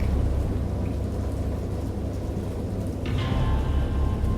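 A thunderstorm with steady rain hiss and a deep, continuous rumble of thunder, swelling louder near the end, with no voices.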